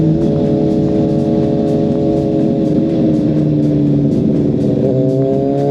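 A big bike motorcycle's exhaust rumbling and revving, loud and close with a steady droning engine tone that shifts pitch slightly as the throttle changes, no voices.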